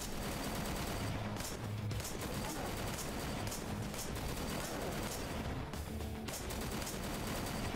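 Dense, continuous gunfire in the action game Wanted: Dead, rapid bursts and volleys layered over each other, faint and steady throughout.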